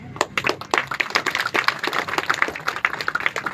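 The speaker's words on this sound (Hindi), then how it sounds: "आप तालियां बजाते रहें, तालियां बजाने में तो कुछ जाता नहीं है" Audience at a Mahashivratri celebration gathering in Panipat clapping steadily, a dense run of close, sharp hand claps with no talk over it.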